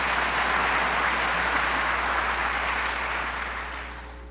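An audience applauds at the opening of a public conversation about the Constitution, a dense, steady wash of clapping that holds strong before gradually tapering off toward the end.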